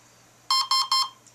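A Red Brick 30A brushless ESC sounds a programming verification tone: three clean, evenly spaced electronic beeps, close and clear over near silence.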